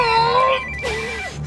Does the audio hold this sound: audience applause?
no